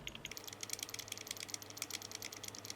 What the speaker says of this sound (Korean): 키보드 방향키를 아래로 누르시고